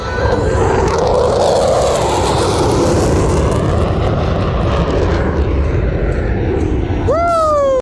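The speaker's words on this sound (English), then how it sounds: "he's coming in. Louisiana Air National Guard F-15 Eagles." Louisiana Air National Guard F-15 Eagle jets fly in at an airport airshow with a loud, sustained roaring rush that swells and holds, while a voice speaks over the noise.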